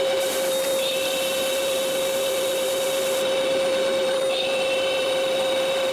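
CNC machine drilling mounting holes into its own table during installation of a RapidChange automatic tool changer, giving a steady, loud whining spindle tone with constant broadband machining noise throughout, no talking.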